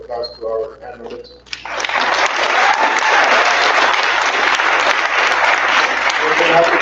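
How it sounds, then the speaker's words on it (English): Applause from an audience for conference panelists, loud and continuous once it starts, following a brief stretch of talk at the beginning. "Can we give a round of applause to our panelists?"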